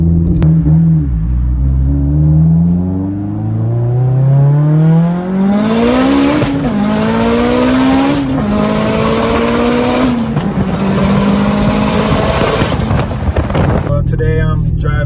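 A 756-horsepower Mitsubishi Evo X accelerates hard through the gears, heard from inside the car as a loud engine note climbing in pitch with several distinct shifts and surging revs, close and continuous.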